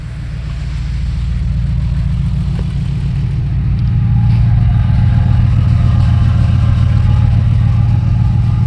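A steady, loud engine hums and rumbles at a low pitch, swelling slightly as it runs continuously without any talking.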